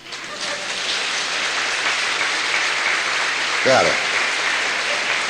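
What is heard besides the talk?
audience applause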